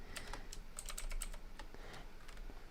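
A computer keyboard clatters as a command is typed, a quick irregular run of light, close key clicks, faint and with no talk.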